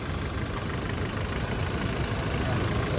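A Toyota Innova's 2.8-liter diesel engine idles nearby, a steady low rumbling drone with even, unchanging loudness throughout.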